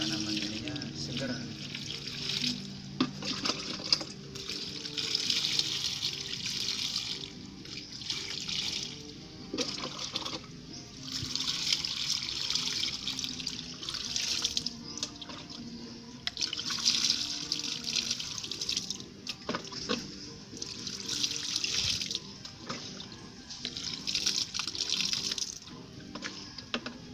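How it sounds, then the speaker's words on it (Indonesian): Water splashes and pours onto a serut bonsai during watering, coming in repeated hissing bursts of a few seconds each with brief pauses between them, fairly close, with faint voices at times. "kita siram dengan sepasang-pasangnya biar tanaman ini segar"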